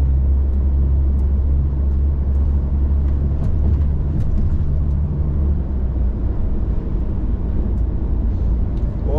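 Steady, loud road rumble and engine drone from inside a car cruising on the E45 motorway, heard from the passenger seat, with constant tyre and wind noise and no talking.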